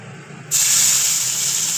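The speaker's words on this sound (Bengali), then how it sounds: "ফোড়নটা আমার একটু ভাজা হয়ে গেছে, এবার পেঁয়াজটা দেব।" Onion drops into hot oil with black cardamom, green cardamom, cloves and cinnamon for mutton kasha, bursting from a quiet background into a loud, sustained close hiss that holds steady.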